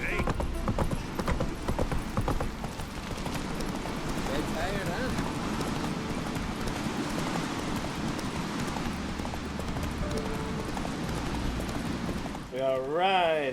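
Steady clip-clop of galloping horse hooves in The Witcher 3, with music and occasional voices throughout, and a brief whinny near the end.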